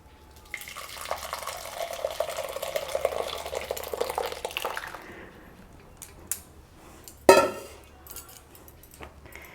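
Curdled milk (chhena) poured onto a cotton cloth laid over a strainer while making kalakand, giving a steady wet pouring and trickling wash for several seconds, then quieter drips and a sharp splash or clatter near the end.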